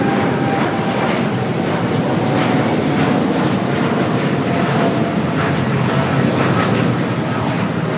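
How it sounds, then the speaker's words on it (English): A Boeing 787 Dreamliner rolls down runway 25 right at LAX on its takeoff run, a loud, steady broadband jet roar that holds constant throughout, heard from a distance with no talk. "The Dreamliner now rolling down the 25 at right."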